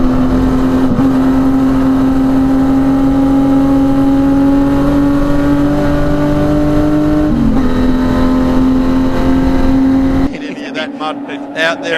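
Saloon race cars accelerating hard down the main straight to the finish at Phillip Island Raceway, a loud sustained engine drone with rising pitch and a gear change, then cutting to a quieter outdoor scene.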